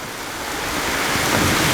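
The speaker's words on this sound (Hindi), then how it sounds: "बारिश इतनी तेज़ हो गई है" Heavy rain pours down in a village in India, a dense, steady hiss of water that grows slightly louder, with no voices.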